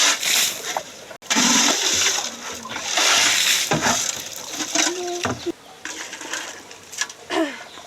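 Well water splashes and sloshes as girls filter sand out of it at a herders' well, giving repeated close splatters and pours among scattered birdsong and faint voices.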